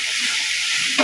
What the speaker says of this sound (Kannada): ಈಗ ಮೆಂತ್ಯ ಸೊಪ್ಪು ಹಾಕೋಣಂತೆ. ಮೆಂತ್ಯ ಸೊಪ್ಪು ಚೆನ್ನಾಗಿ ಬೇಯಬೇಕಿದು.